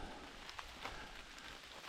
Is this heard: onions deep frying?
no